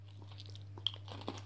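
A crunchy Justice League biscuit is bitten and chewed close up, giving a few soft crackling crunches and one sharp snap over a quiet hum.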